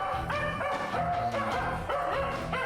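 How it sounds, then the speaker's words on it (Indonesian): A female dog barks and yips repeatedly in quick bursts, used as a lure to calm a wild male dog during an evacuation, the barking close and persistent throughout. "Gonggongan anjing betina ternyata meluluhkan anjing liar tersebut"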